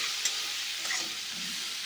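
Onions fry in a pan with salt and turmeric while being stirred, a close, bright, continuous hiss of sizzling oil.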